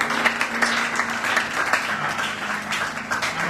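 Applause from an audience at a youth conference, a steady and fairly loud wash of many hands clapping that keeps up throughout.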